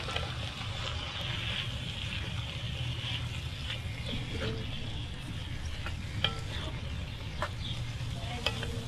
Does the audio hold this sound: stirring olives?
yes